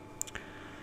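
A single sharp mouse click while setting up a campaign in Facebook Ads Manager, brief and close against a faint background hum, with a second, softer click just after.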